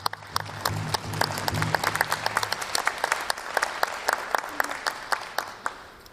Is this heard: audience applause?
yes